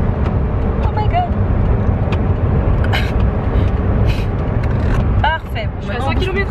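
A car accelerates on a road during a first driving lesson, reaching about 100 km/h. A loud, steady engine and road rumble fills the cabin, with people talking over it throughout.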